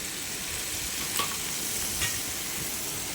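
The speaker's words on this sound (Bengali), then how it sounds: "ভালো করে ভাজবো।" Salted capsicum for a garlic mushroom dish fries in a pan with a steady, even sizzle, broken by two light clinks of the stirring spoon against the metal.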